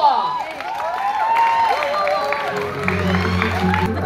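Applause and cheering from a live crowd welcoming actor Joros Gamboa on stage at a GMA 7 teleserye launch, a steady wash of clapping with a voice rising over it.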